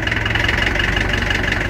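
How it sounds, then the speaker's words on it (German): An IHC D432 tractor diesel engine straining under load with cold, thick oil, a steady, loud, close chugging drone with a rapid rhythmic knock and no other sound over it. "Da hat der Motor so zu kämpfen, weil das Öl natürlich ziemlich dick ist."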